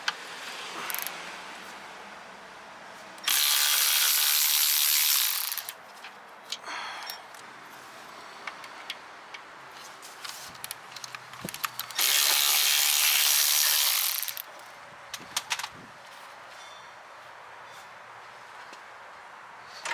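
A ratchet wrench loosening the AC condenser mounting bolts on a 2011-2014 Dodge Charger, two long bursts of rapid metallic ratcheting separated by quieter clicks and tool handling, close up in a garage.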